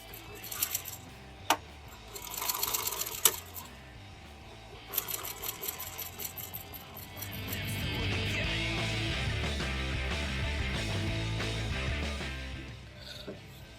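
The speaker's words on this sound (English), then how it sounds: "let's sew some piping on." Sewing machine stitching piping onto tuck and roll upholstery for a Model A coupe seat, starting with short bursts and clicks, then a steady continuous run of stitching lasting several seconds, fairly close and moderately loud.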